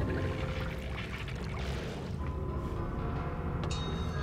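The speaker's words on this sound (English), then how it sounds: "So it looks like the water monster has made a return." Water monster splashing through shallow water in Amnesia: A Machine for Pigs, a continuous watery churning and pouring wash, fairly faint, alone without talk.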